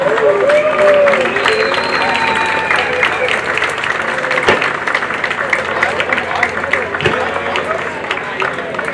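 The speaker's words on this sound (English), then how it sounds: "Please give a round of applause and a big congratulations to the North High Huskies, this year's sectional champs." A crowd at a high school sectional final award ceremony applauds and cheers steadily and loudly for several seconds, with a public address voice speaking over the clapping.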